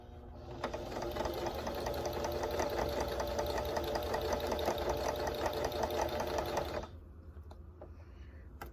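A sewing machine runs steadily for about six seconds, stitching quilt strips along a quarter-inch seam with a close, fast, even mechanical chatter, then stops, leaving a quiet tail with no talk.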